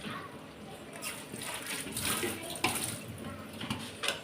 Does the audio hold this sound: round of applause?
no